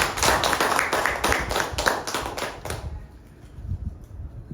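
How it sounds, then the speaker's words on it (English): Audience applause for a speaker at a Toastmasters meeting, a dense burst of many hands clapping close by for about three seconds before it quickly thins to scattered claps and room murmur. "Let us give her a big round of applause."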